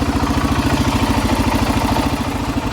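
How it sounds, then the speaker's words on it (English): Side-by-side UTV engine cranking with a fuel smell present, a loud, steady, rapid mechanical chugging and clatter that runs close and continuous throughout. "it's gonna get a little loud as we crank the engine"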